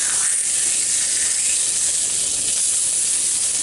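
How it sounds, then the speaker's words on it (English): Frozen sausage sizzles in a pan with a loud, continuous, bright hiss that stays even from start to finish, heard alone without voices. "I hope you can hear my sausage cooking"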